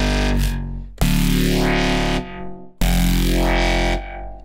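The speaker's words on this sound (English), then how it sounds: "And finally to the distortion mix." Distorted synth neuro bass patch built in the Vital synthesizer, two long, gritty, sustained notes with sweeping filtered harmonics, loud and up front, each ending abruptly, with no voice.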